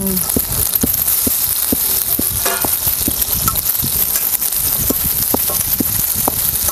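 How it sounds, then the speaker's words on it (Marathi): Tomatoes sautéed in oil in a pan for traditional Maharashtrian bitter gourd curry give a steady, close sizzle, punctuated by regular scraping taps of a stirring spoon. "टमाटो घालून परतून घ्यायचं."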